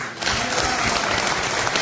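A crowd inside the British Parliament hall breaks into loud, dense clapping that swells within a moment and holds steady for the rest of the short stretch.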